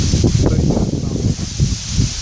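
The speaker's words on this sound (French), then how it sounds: "J'ai du vent dans les Vanois là, sur ces arbres." Wind sweeps through trees near a small hut beside coconut palms at Étang Saint-Paul on Réunion, a steady close rushing and leafy rustle with slight gusts throughout.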